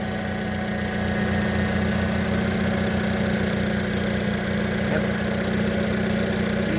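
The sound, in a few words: Chevrolet S10 truck engine running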